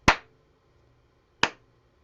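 Two sharp hand claps spaced well apart at a slow, steady interval, close and clear with quiet between them, demonstrating half notes in a beginner music lesson.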